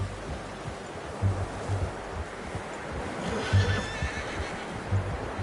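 A horse in the Red Dead Redemption 2 video game whinnies faintly while hooves clop softly at a distance, set against steady wind-like outdoor ambience.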